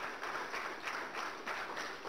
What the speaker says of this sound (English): Oh, please, a big round of applause for Mr. President.